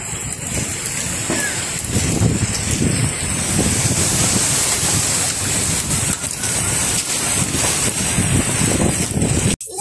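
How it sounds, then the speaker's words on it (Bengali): Strong storm wind roars continuously before rain in a village, buffeting the microphone with heavy gusting rumble and hiss throughout, loud and unbroken. "ঝড় বাতাস শুরু হয়ে গেছে একদম"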